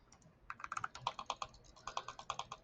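Typing on a mechanical computer keyboard, a close, crisp run of clacking keystrokes in quick irregular bursts with a brief pause near the middle, heard alone in a quiet room.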